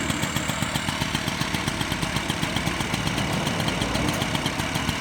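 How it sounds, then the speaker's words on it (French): A Motobecane N40T moped engine idles steadily just after starting, its small two-stroke firing in a quick, even putter with faint knocking. It sounds close and loud, continuous across the whole stretch, with no voices over it. "Et là aussi démarre au quart de tour."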